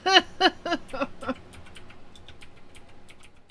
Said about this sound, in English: what am I typing for?